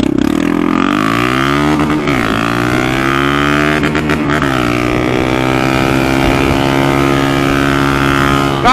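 Honda CB300R motorcycle fitted with a diffuser exhaust roaring close by, a loud sustained engine drone that rises and falls in pitch with revving throughout.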